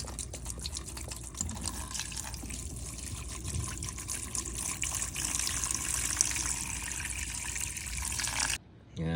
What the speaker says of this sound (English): I just want to get this full thing submerged, and it's now just under the Evapo-rust.